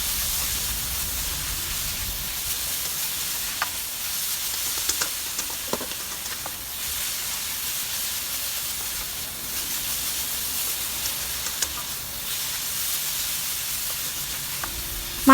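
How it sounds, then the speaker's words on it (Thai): Green khao mao rice flakes stir-fried in a pan give a steady broad hiss and sizzle with occasional faint scraping clicks of stirring, continuous and moderately close throughout. "ผัดไปเรื่อยผัดไปเรื่อยจนกว่าเขาจะแห้งค่ะ"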